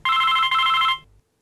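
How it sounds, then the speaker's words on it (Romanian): A telephone bell rings in two loud, steady bursts with a short break between them, then cuts off abruptly, with no talk over it. "Stați așa că sună telefonul."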